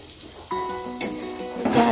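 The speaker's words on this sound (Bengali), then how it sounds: "এবার আমি আবার একটু তেলে বাগার দিয়ে নেব, এই জন্য পেঁয়াজ আর রসুন কুচি নিয়ে নিলাম" Chopped onion, garlic and ginger tempered in hot oil for a fish-head curry, a close continuous sizzle that swells louder toward the end, with brief tonal clinks of utensils.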